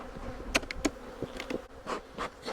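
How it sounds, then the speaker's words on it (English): Honey bees buzz in an opened hive that had been abandoned for years. Several individual bees whine close by in short passes over a low humming background. "Look at all those bees, man."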